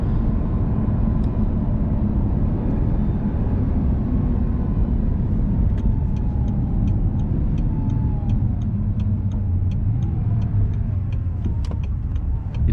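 A stock 2009 Audi R8 with a 4.2L V8 accelerating from first into second gear, its engine note loud and continuous with rising revs heard from inside the car, with faint ticking near the end.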